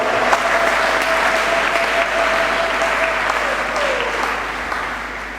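A church congregation at Sunday Mass applauds steadily, a dense wash of clapping with some faint voices and a thin tone running beneath it.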